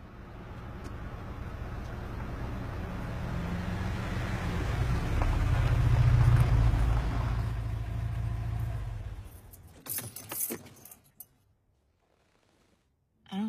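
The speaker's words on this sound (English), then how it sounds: "Let's just drive up the driveway and we'll see if we see anything." A car engine rumbles as the vehicle drives slowly up a driveway, swelling in loudness before cutting off, followed by a few sharp clicks and then quiet.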